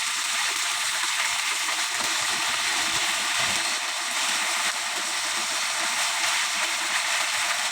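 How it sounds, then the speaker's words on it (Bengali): Beef kebab pieces frying in mustard oil give a steady, loud sizzle and hiss that runs without a break, close by, with no talking over it. "আমার সরিষার তেলের ফ্লেভারটা ভালো লাগে, সেই জন্য সরিষার তেল দিয়ে ভেজে নিচ্ছে"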